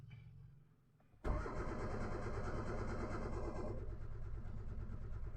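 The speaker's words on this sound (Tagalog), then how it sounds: "Cranking lang, walang start." A Hyundai Getz with a no-start fault cranks on and on without catching, a loud, close, steady churning that kicks in abruptly after about a second of quiet.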